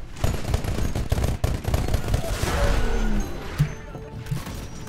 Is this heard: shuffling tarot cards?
no